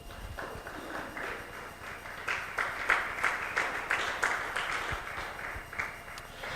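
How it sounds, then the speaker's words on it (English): Audience applause at the ACity Sustain City 2.0 launch, a morning event in Ghana: a crowd clapping in an uneven patter that swells and eases, moderately loud and steady with no talk over it. "Let's clap for ourselves for being here this morning."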